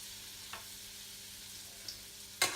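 Butter melts and sizzles in a pan as diced melon is about to go in, a steady soft hiss filling the background, broken by a light clink and a sharper scrape near the end.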